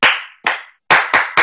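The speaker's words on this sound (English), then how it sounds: "Clap for Brother Edwin." A few loud, close, sharp hand claps ring out at a church youth service, five distinct claps with short gaps between them.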